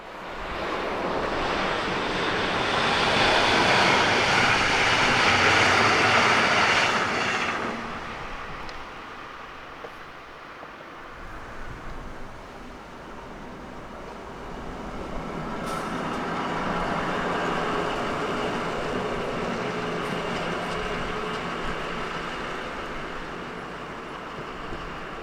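A German class 146 electric locomotive on a Hannover to Nordhausen working sweeps past on the rails, a broad rushing roar that swells, fades, then builds again more softly, steady and fairly loud.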